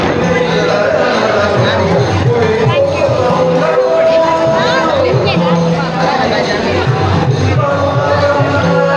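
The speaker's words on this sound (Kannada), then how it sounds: "ಒಳ್ಳೆ ರಶ್ ಇದೆ, ಕ್ರೌಡ್ ಇದೆ." A busy jackfruit fair with food stalls fills the air with loud, constant crowd bustle and overlapping chatter, close and dense, with no pauses.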